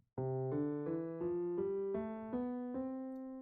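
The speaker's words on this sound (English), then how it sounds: "major / Ionian is like this," A major scale played note by note, climbing in eight even steps, each tone sustained and ringing into the next, with no voices.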